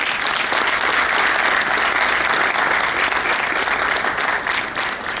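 An audience at a conference opening ceremony claps loudly and steadily, a dense sustained applause that fades slightly toward the end.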